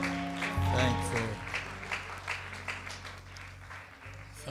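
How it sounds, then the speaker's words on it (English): Church congregation clapping in praise during an area-wide revival service, the applause mixing with sustained organ or keyboard tones and scattered voices, fading somewhat toward the end. "Give him one more hand clap of praise."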